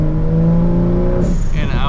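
A 500+ WHP 2020 Toyota Supra accelerates hard at night, a loud, steady engine drone rising in pitch from close inside the car, then dropping off into a rushing, fluttering sound after the shift, with talk over it.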